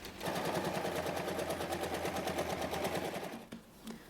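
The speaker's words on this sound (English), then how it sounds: "flip the bottom panel down and top stitch on the bottom panel side" A sewing machine runs steadily in a fast, even stitching rhythm while topstitching a bottom panel seam on a color-block tote bag, then stops abruptly near the end, leaving a couple of faint clicks.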